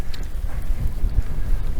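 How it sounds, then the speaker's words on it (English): Steady gusting wind on a links golf course buffets the microphone with a low rumbling roar throughout, no voices. "Bit windy, wind's definitely picking up"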